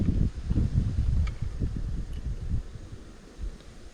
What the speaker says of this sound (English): It's a little windy today as well, if you can't tell.